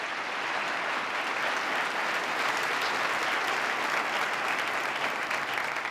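Sustained audience applause at a formal state address, steady and dense clapping from a large crowd filling the hall for the full stretch, thanking a reverend and a rabbi after their blessings.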